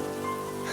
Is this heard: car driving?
no